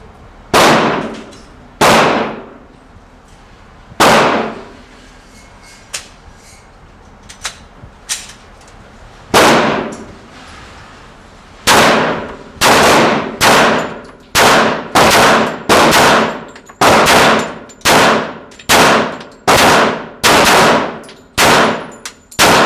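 A Glock 21 pistol fires at a shooting range: a few widely spaced sharp, loud reports, then a fast run of about a dozen shots emptying the magazine, each crack ringing off briefly.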